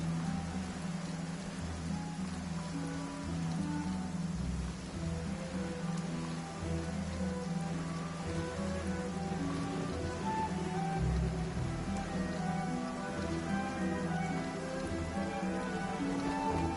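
Steady rain falls on surfaces in the Genshin Impact video game, a continuous dense patter with soft pitter of drops throughout, moderately quiet and without voices.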